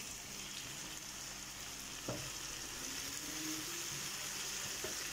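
Garlic and ginger frying in a pan, a continuous quiet sizzle with a couple of brief utensil knocks.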